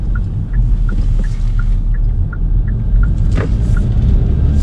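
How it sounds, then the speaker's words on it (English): Kia Seltos compact SUV rolling over a speed bump, a steady low road rumble inside the cabin with a brief firm thump from the suspension midway, alongside a faint repeating chime. "Going over a speed bump, I can tell it's got a very firm suspension."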